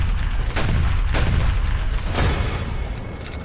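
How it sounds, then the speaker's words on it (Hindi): Cannon fire of a 21-gun salute by Pakistan, heavy booming reports rolling one after another, loud and reverberant with no talk. "प्रधानमंत्री अटल बिहारी वाजपेयी को पाकिस्तान की तरफ से 21 तोपों की सलामी दी गई थी।"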